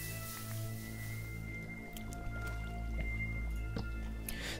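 Water placed in Minecraft, soft squishy dripping and liquid splashes over a steady background hum and game tones, faint and brief.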